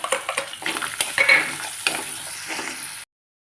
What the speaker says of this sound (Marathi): आता त्याच कढईमध्ये मी त्याच तेलामध्ये टाकते बारीक चिरलेला कांदा